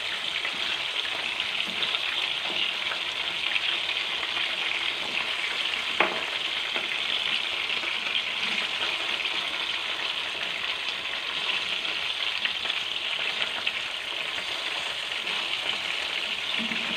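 Homemade chicken pieces frying in hot oil give a steady, dense sizzle that holds evenly for the whole stretch, with occasional small pops and crackles close by and no talking.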